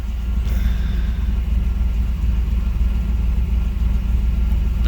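A car engine idles at about 900 RPM, a steady, loud, low rumble with an even, unbroken drone throughout and no talk.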